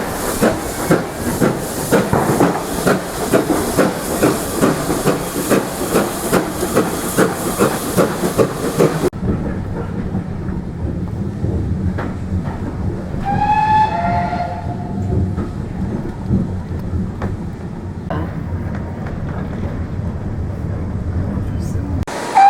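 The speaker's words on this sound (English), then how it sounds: "What do you think of the steam train?" A steam train running with a rhythmic chuffing rumble, then a steady hiss and low rolling drone, with a short tonal squeal partway through; voices talk over it.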